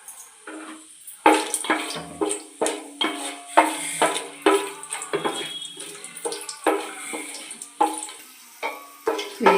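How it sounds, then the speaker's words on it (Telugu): Whole cloves, cardamom pods, cinnamon sticks and peppercorns frying in a pan, a run of sharp crackles and clinks of spices hitting hot metal at uneven intervals, close and fairly loud, with no talk. "ఇవి బాగా ఫ్రై చేసుకుందామండి"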